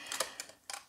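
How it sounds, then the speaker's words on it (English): Metal snips cut along the edge of a paper circle in three quick, crisp snaps spaced across a second, close and fairly soft, with no talking. "I'll take my snips, and now what I'm gonna do is right along this edge, I'm gonna cut the edge of the"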